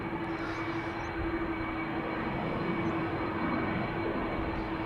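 A TUI Boeing 787 Dreamliner departs Amsterdam Schiphol for Bonaire, heard as a continuous, moderately loud engine roar carrying a steady tonal hum, with no voices over it.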